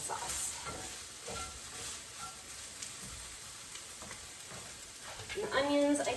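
Onions fry in a pan until lightly coloured, giving a steady, moderately loud sizzle, with a brief burst of clattering stirring near the end.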